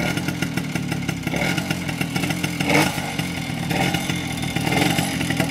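Motobécane AV89 moped engine running after starting, a buzzy two-stroke rattle that stays loud and close with small throttle surges and mechanical clatter.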